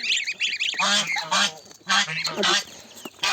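Several loud goose honks in bursts, close by, with a bird's chatter between them.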